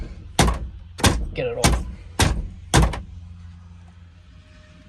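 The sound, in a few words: banging car front bumper loose by hand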